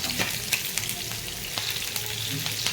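Onions fry in a pan for a lentil and tomato curry, with a steady close sizzle and occasional spoon taps and stirs.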